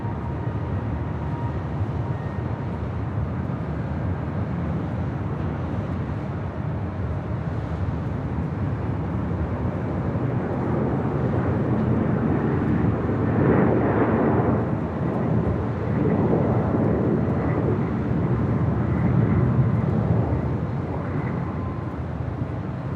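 An Airbus A321neo jet taking off at Los Angeles International Airport, a loud continuous low engine roar that swells toward the middle and holds steady, with no voices.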